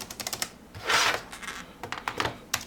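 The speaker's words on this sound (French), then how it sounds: "Touche entrée sur le clavier Eclipse." Rapid clicking of keys on an Eclipse wireless Litetouch keyboard, a run of light taps with a broader soft burst near the middle, close and fairly quiet, no voices.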